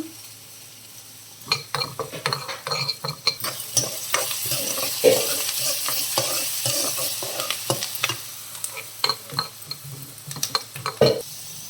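Coriander seeds and cumin frying in a pan for a bottle gourd masala curry, with a soft sizzle under frequent sharp scraping and clinking stirs of a spoon against the pan, close up, no talking.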